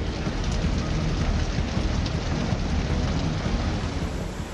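Heavy monsoon rain pours steadily in Kinnaur, Himachal Pradesh, a dense, continuous roar of water with a low rumble beneath, loud and unbroken throughout with no voices.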